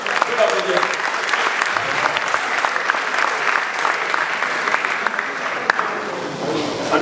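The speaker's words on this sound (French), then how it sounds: "Est-ce qu'on peut vraiment applaudir pour lui, s'il vous plaît?" Audience at a travel and study conference in Kinshasa applauding steadily for about seven seconds, a dense, even wash of clapping with scattered louder claps and no pause.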